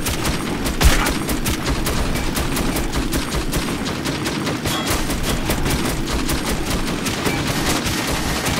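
Sustained, dense automatic fire from a vehicle-mounted machine gun in the video game Metro 2033, a loud, continuous rattle of rapid shots running the whole stretch with barely any pause.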